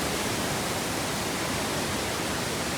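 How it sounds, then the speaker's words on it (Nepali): Bhorle waterfall running with only modest flow, giving a steady, even broadband roar that stays constant throughout with no voices. "साथीहरू झरना चाहिँ यही हो है"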